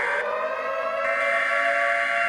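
A nuclear attack warning siren from an animated emergency alert scenario wails as a steady, loud, sustained tone that shifts slightly in pitch partway through, heard alone without speech.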